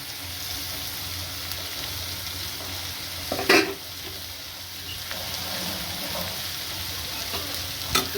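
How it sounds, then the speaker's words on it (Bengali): Ground sesame paste goes into ridge gourd frying in a pan, giving a steady low sizzle with a sharp clatter of stirring midway and another near the end, close and without voices. "এবার আমি তিল বাটাটা দিয়ে দিচ্ছি"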